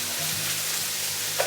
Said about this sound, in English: I will just mix it all together